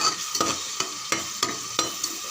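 Biryani masala is stirred in a cooker with a spoon, giving six evenly spaced scraping strokes over a soft steady sizzle, close by, with no voices.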